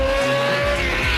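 A Brabham race car at speed on the Reims circuit, its engine a loud, steady, high-pitched drone with a slight pitch shift, heard alone and close for just over a second.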